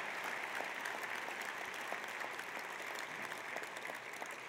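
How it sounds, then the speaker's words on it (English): A roomful of guests at a Walter Camp Football Foundation annual awards dinner applauds, a dense, even patter of clapping sustained for several seconds at moderate distance without talk. "And now, a round of applause for these gentlemen"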